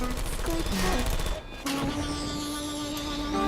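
An automated turret in Portal 2 firing rapid bursts of gunfire, loud and close, with a brief gap and a beep-like electronic tone, under a voice talking.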